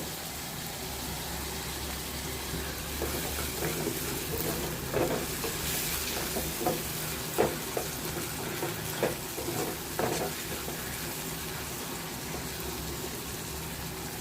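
Spring onion greens sautéing in a pan for a kuzhambu, a continuous close sizzle with occasional soft scraping stirs rising through the middle, no voices.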